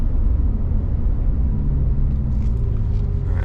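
C7 Corvette Z06 with the Z07 package, exhaust in its loudest setting, rumbling through a slow U-turn on wide 285 tires: a deep, steady low drone heard from inside the car, loud and unbroken.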